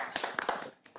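An audience clapping for health workers at a public event marking one billion vaccinations in India, a short burst of scattered claps that quickly thins out.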